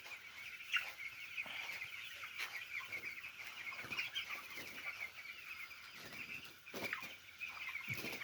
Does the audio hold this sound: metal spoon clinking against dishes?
no